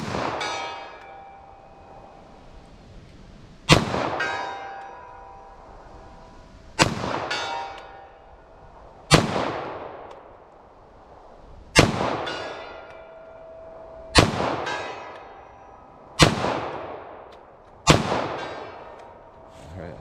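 Eight .45 ACP pistol shots fired at a steel target, each a sharp loud crack with a ringing metallic clang that decays over a second or two, spaced a few seconds apart at an uneven rhythm.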